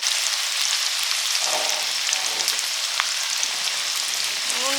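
Sliced onions deep-frying for biryani birista, a continuous dense crackling sizzle close by, steady and loud throughout with occasional sharper pops and no talking.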